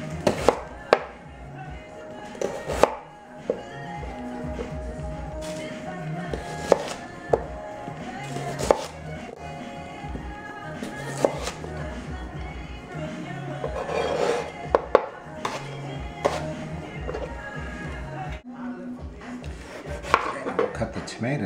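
A knife slices potatoes into thin fries on a cutting board, giving sharp, irregular chopping knocks close by, spread across a steady kitchen background with no talking.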